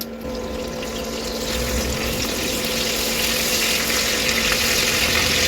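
Soaked, washed moong dal frying in hot mustard oil in a saucepan, giving a steady, dense sizzle and hiss that grows slightly louder and holds without pause.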